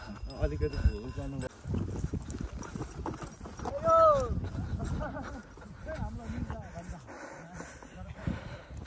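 Hooves clip-clop at a steady walking pace while people talk over them, with some other low rumbling in the background.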